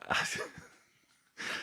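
A single person's sneeze bursts out close and loud at the start. A short quiet pause follows, then another breathy burst.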